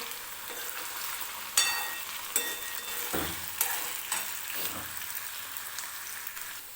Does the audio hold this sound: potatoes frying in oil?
yes